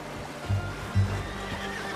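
A horse in the video game Red Dead Redemption 2 gives two short low whinnies over a soft wash of outdoor ambience resembling flowing water.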